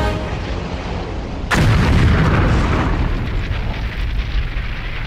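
A sudden heavy blast of aircraft rockets striking a small arms factory erupts after a quiet stretch, followed by a rumbling roar and crackling debris that slowly fades, loud and close.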